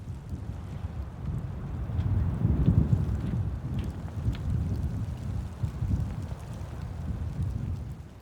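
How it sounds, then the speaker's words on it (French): Wind rising through a snowy forest at night, a steady low rushing roar with gusts swelling around the middle and lingering throughout, no voices present. "le vent se lève peu à peu. Je l'entends déjà hurler au loin"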